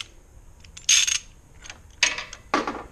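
A ratchet wrench with a thin-walled socket works on the front suspension of a BMW E46 xi, giving three loud, close rasping clicks separated by quiet pauses.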